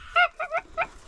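Three loud honks from a goose close by, a single call followed by a quick double honk, with no other sounds around them.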